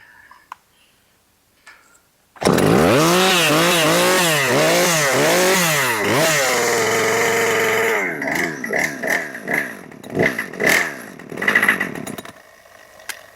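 Husqvarna 545 chainsaw starts loudly and runs roughly, its engine note surging and dipping in repeated waves, then blipping unevenly in short bursts before cutting off; it never settles into a steady idle.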